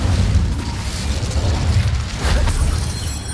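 A fire spell cast in Hogwarts Legacy bursts out as a loud, sustained whooshing roar with a booming low rumble, lasting a few seconds with no talking over it.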